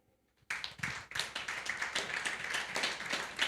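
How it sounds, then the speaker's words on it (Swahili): A church congregation claps together during a sermon, the sound bursting in after a brief quiet and continuing as a lively, fairly close patter of many hands. "hebu jipigeni makofi"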